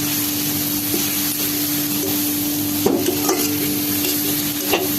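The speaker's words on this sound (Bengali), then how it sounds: "ভালো করে নাড়িয়ে নেব।" Chilli, cumin and coriander powders being stirred in a pan for a Bengali rui fish curry: a loud, continuous sizzle close by, broken by a few sharp scrapes of the spoon, with no voices.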